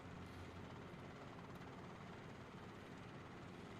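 A Robinson R22 light helicopter in a flight simulator makes a steady, dense rotor and engine drone that holds at an even level throughout.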